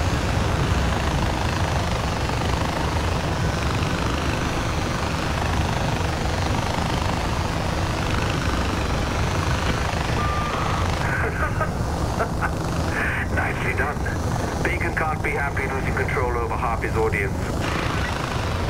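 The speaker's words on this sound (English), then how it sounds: "it's like super windy out here today. We're getting knocked all over the place in this little chopper" A small helicopter in Far Cry 4 flies through strong wind, its rotor and engine roaring steadily and loud throughout, with gusting buffet and game sounds layered over it.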